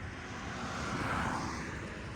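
Japanese Honda Dio Fit AF-27 two-stroke scooter engine running steadily, a close, continuous buzzing drone at fairly even loudness with no talking.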